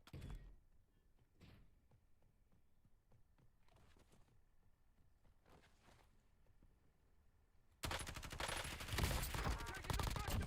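Gunfire in Call of Duty Warzone, in Verdansk: scattered faint thuds and distant shots at first, then a loud, sustained burst of heavy fire fills the last few seconds.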